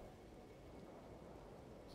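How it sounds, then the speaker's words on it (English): A thunderstorm in No Man's Sky brings dense, even hiss of steady rain with a low, rolling rumble beneath, faint and continuous. "So we've got a storm coming."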